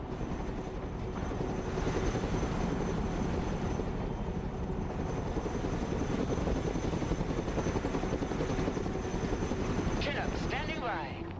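Chinook helicopter in the film Broken Arrow, a steady close rotor thrum and engine drone throughout with a brief burst of higher chatter near the end.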